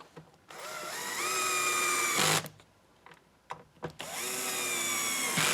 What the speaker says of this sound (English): So now, throw our 4 screws in.